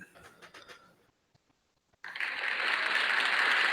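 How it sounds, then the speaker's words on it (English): Hand clapping during a live gaming podcast: a few faint claps at the start, a short quiet gap, then a sudden loud burst of sustained clapping that continues to the end. "Why are you clapping?"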